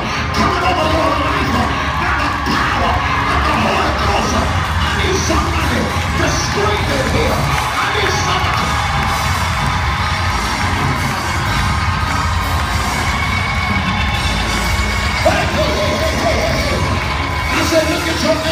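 A church congregation screams, whoops and cheers loudly during a worship service, a dense, sustained wall of crowd noise with scattered yells and bangs that carries on without pause.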